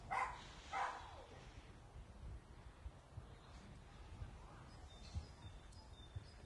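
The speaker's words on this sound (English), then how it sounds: "Dog barking." Dog barking at Hazlehead Park on a Saturday afternoon: two distant yaps near the start, then faint intermittent barks further off under wind and outdoor ambience with birds.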